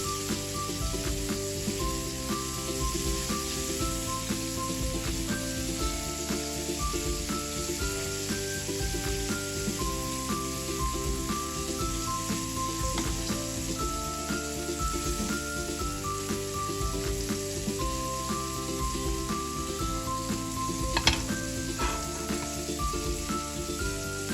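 Calamari frying in a pan, a steady, rain-like sizzle that runs without a break under constant background music, with one short louder crackle near the end.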